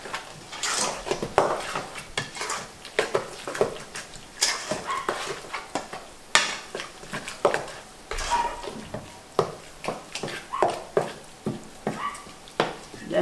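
Sweet potato pudding batter with butter is mixed in a bowl, giving repeated close stirring and scraping strokes in a steady rhythm throughout, with occasional utensil clinks against the bowl.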